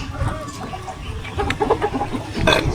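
A pet chicken clucks in short bursts close by, with a few louder clucks near the end over a busy, rustling background.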